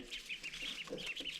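Newly hatched chicks in a makeshift brooder chirp rapidly and repeatedly in high, bright peeps, close by and fairly loud, with a few softer lower clucks beneath.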